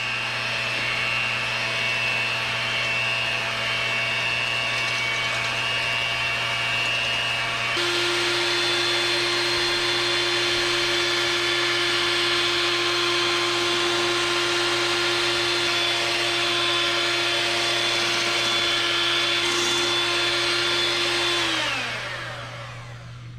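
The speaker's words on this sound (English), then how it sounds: "we're going to whisk this until we get stiff peaks" An electric mixer whisks a keto pumpkin pie filling mixture with sugar and vanilla toward stiff peaks, a steady close motor whine running continuously, its pitch dropping partway through before winding down at the end.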